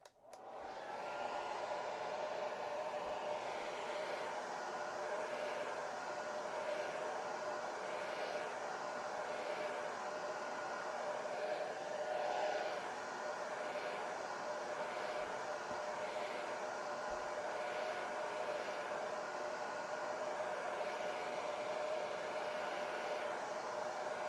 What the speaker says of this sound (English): We'll put the hair dryer on.